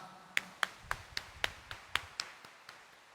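Clapping during a mass at Quiapo Church, about a dozen sharp, evenly spaced claps in a steady rhythm, fairly close and clear over a low background hum.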